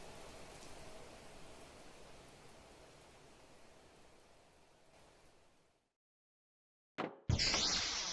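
Rain in The Planet Crafter game, a steady broadband hiss of rainfall that slowly fades into silence, then a sudden loud burst of noise returns at the end.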